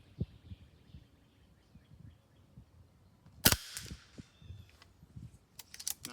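A MaCavity Arms .22 air rifle fires FX 15.89 pellets at a target, giving one sharp, loud crack with a short ringing tail. Faint clicks and handling noises come before and after the shot.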